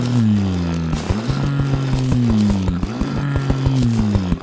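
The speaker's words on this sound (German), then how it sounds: "sägen wir hier drüben auch nochmal den Wald weg" The Sawtooth Shark chainsaw in Terraria cutting down a forest, a loud close buzzing drone with steady pitch that dips and rises as each tree is hit, accompanied by repeated chopping clicks.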